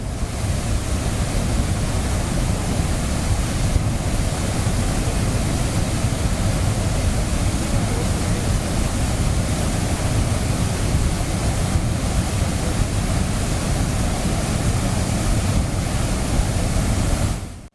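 Floodwaters crash down the swollen Old Courtallam waterfall in Tenkasi, a dense, steady roar of heavy water that stays loud and unbroken throughout, with no voices over it.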